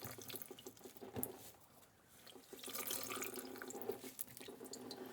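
Tap water running into a kitchen sink while cherry blossoms are rinsed, a faint continuous splashing trickle with light drips, swelling slightly partway through.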